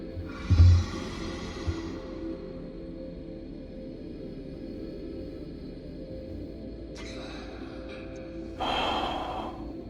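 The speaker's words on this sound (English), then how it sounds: "I can hear them breathing." Creatures in the Outer Wilds video game breathe with low, airy, drawn-out breaths over a dark ambient drone, including a brief louder gasp near the start and a breathier swell near the end.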